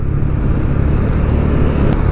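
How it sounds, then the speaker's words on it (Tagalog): Dense road traffic in Malolos, Bulacan, a steady loud rumble of car and motorcycle engines close by, continuous for the whole stretch with no voices. "Sobrang loaded na ng mga sasakyan dito."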